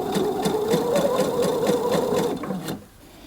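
A sewing machine runs a steady rapid stitch-in-the-ditch seam on a dress with matching thread, its even mechanical whir and ticking needle close and alone, stopping abruptly near the end.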